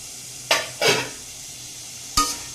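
A bean fry being stirred in a pan, three distinct scraping strokes of a spatula against the metal over a faint low sizzle, close and fairly loud.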